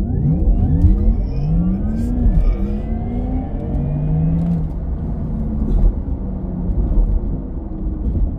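A Porsche Taycan Turbo electric car launches hard in Sport Plus mode on a late-night drive, a loud rising motor whine that climbs steadily in pitch over a deep rumble, with no talking.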